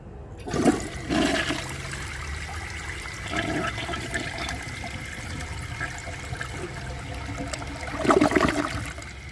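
A 2014 Delta Corrente toilet with large rim jets and a large siphon jet flushes, a close, loud rushing swirl of water that surges, settles into a steady gurgling drain and swells again near the end.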